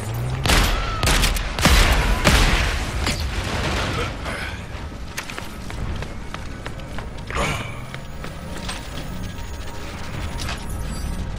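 Rapid shotgun blasts and clattering mechanical action from Crackdown 3 gameplay, several sharp loud bursts at first, then denser chaotic combat noise with clanks and impacts throughout.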